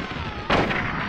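Gunfire in the Silent Hill video game on PS1: a single loud, sharp burst cuts in about halfway through and rings out briefly over a steady game background.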